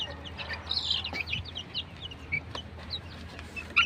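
Open-air gamecocks (fighting roosters) cluck and crow in a yard, with repeated short, sharp calls scattered irregularly over faint background noise.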